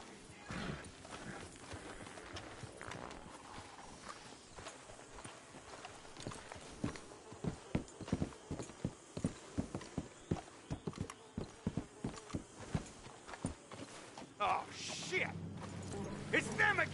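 Distinct clip-clopping hooves beat a slowing rhythm in the middle, amid Red Dead Redemption 2 game ambience and some speech, fading out before a closing swell.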